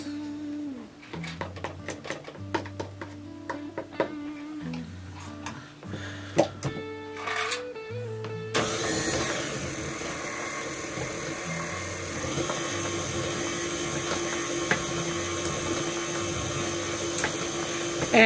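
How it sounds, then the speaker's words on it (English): Flour with a quarter teaspoon of baking soda being mixed into banana poundcake batter: music plays first, then a steady, loud, even whirring runs without a break through the second half. "Now we're going to mix our flour, and in this flour we have a 1/4 teaspoon of baking soda. And so we're just going to mix this all in at once."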